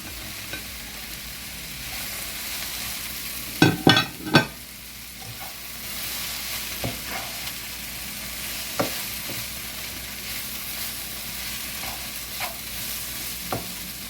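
Sausage browns in a pan with translucent onions for a breakfast quiche. A constant close sizzle carries through, with a few clattering spoon scrapes and taps as the mixture is stirred.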